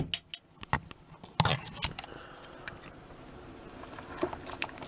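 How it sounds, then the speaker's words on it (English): Sharp scissors snipping through packaging straps during a Panasonic HC-V770 camcorder unboxing: a few crisp, close snips and clicks in quick succession, then quieter rustling handling noise, no speech. "See if we can cut these straps."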